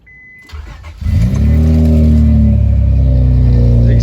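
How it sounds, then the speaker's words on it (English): A 1998–2002 Honda Accord V6, with a header gasket problem, cranks and catches, then settles into a loud, close, throaty idle from its exhaust. "The exhaust is a lot more throaty again."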